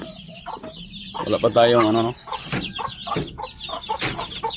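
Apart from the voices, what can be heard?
backyard chickens clucking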